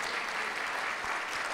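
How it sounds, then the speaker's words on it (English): A church congregation claps their hands in praise during a Sunday service, a steady, even roar of many hands filling the room without a break for the whole stretch. "Give the Lord a hand clap of praise in this place."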